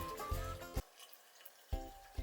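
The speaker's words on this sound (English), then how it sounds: "So first of all, let's put your hot water" Hot water is poured from a container onto peanut butter, a short watery splash and trickle that stops, then resumes briefly, close and fairly quiet.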